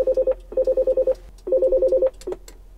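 Intercom call tone in a 2020 Mercedes Sprinter VIP van with Klassen interior: three bursts of rapid warbling electronic beeps, close and clear, with short pauses between and a brief chirp at the end.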